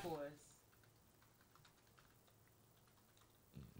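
Someone types on a computer keyboard, with faint, quick clicks pattering steadily in a quiet room and a short burst of voice at the start and end.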